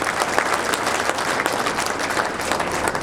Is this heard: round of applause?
yes